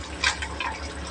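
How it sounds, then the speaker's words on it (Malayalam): Raw coconut oil poured into crab masala in a Kerala-style dish, a brief close liquid pour with a couple of soft gushing splashes, no talking. "നമ്മൾ ഇച്ചിരി പച്ച വെളിച്ചെണ്ണ ഒഴിക്കുന്നത്"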